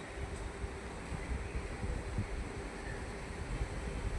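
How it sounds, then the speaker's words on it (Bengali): Soft, steady breeze blowing outdoors, a low continuous rush at faint level with no voices. "কি সুন্দর হাওয়া দিচ্ছে"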